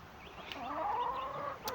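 A rooster and hen cluck nearby in a short burst of throaty, rising and falling calls, faint background noise and a couple of clicks around them.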